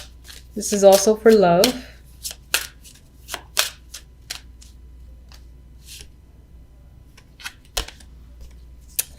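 Oracle cards being shuffled and drawn: a short riffling shuffle under a woman's speech, followed by scattered soft card taps and slides, close and quiet.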